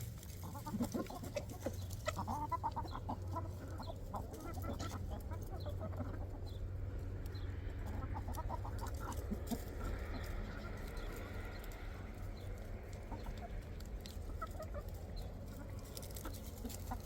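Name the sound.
rooster and chickens clucking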